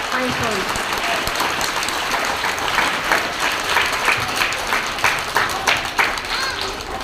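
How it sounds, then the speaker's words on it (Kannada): Loud, close applause from children and teachers at a government school event for a birthday. The clapping runs steadily throughout, with the individual claps growing more distinct toward the end, and voices mixed in. "ಜೋರಾದ ಚಪ್ಪಾಳೆಯೊಂದಿಗೆ ಬಯಸೋಣ"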